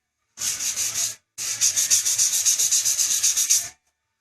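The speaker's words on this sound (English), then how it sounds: "You got to make sure it's sanded good or, scratched up really good with like some 150 or something" Sandpaper, around 150 grit, rubbed over a dinged car door panel before body filler: two runs of quick rhythmic back-and-forth scrubbing strokes, close and clear, with a brief pause between them.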